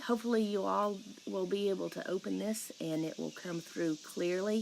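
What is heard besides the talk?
cicadas in the background outdoors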